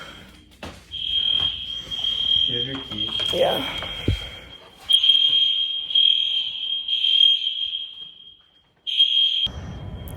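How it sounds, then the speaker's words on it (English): A fire alarm blares at 5 in the morning with a loud, steady high-pitched tone that cuts out briefly and resumes, while people talk nearby. "The fire alarm's going off at 5 in the morning."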